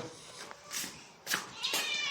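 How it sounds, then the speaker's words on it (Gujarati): A cat meows a few times in short, soft calls, fairly close but quiet, against a faint background hush. "આ મારી પાસે એક મીંદડી પણ છે"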